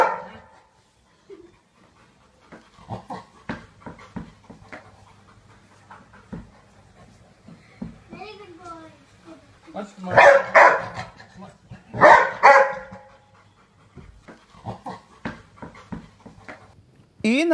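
A dog pants in rapid, soft bursts and gives a few loud barks near the middle, close by, with quiet background talk around it.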